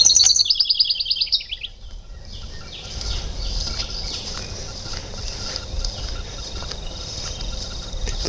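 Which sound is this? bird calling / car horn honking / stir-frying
bird calling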